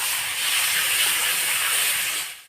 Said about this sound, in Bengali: কিন্তু মাংসটা কষাচ্ছি,